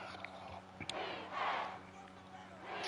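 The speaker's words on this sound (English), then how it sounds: "Crowd chanting defense." A stadium crowd in the Madden 24 football video game chanting defense, a swelling roar that rises and falls over a steady game broadcast bed, with a faint background voice.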